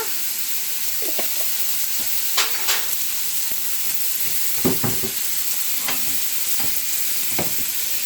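Soft frying sizzle with occasional crackles and pops as cumin seeds and urad dal hit hot oil for a rasam tempering, close by, with light stirring scrapes.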